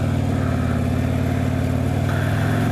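A motorcycle engine runs steadily at a constant drone, loud and close, with a deep low rumble and no voices.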